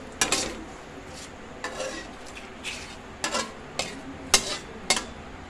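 Bay leaves go into hot ghee in a pan, giving a faint frying hiss broken by several sharp scraping and clinking stirs at irregular intervals.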